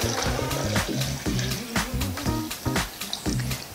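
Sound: water poured into a blender for lemon detox juice

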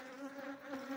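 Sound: bees buzzing outdoors

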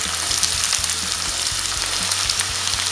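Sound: chopped onion frying in hot oil in a pan

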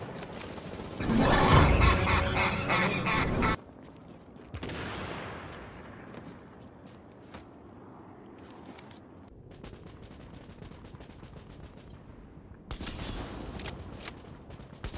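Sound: automated turret gunfire in The Division video game

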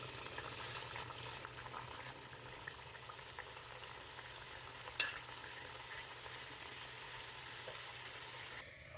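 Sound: frying maida diamond cuts snacks in oil

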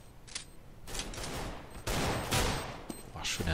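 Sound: gunfire in Counter-Strike video game on de_dust2

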